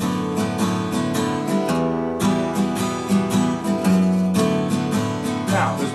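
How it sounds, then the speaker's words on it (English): Acoustic guitar strummed in a steady eighth-note down-up pattern for a song, even and continuous chord strokes heard up close with no voices. "A pair of 8th notes in the strumming pattern is going to go down, up, the next pair, down, up"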